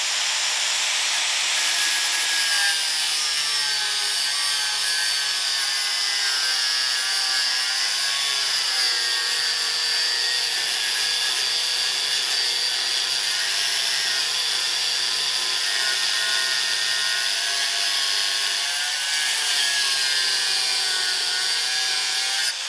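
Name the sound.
grinder cutting a metal piece held in a vice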